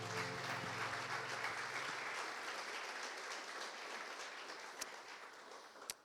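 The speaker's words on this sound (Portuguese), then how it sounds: "Vamos aplaudir ao Senhor." A church congregation applauds at the close of a worship service, a sustained wash of clapping heard at some distance that tapers slightly near the end, with a couple of sharper claps.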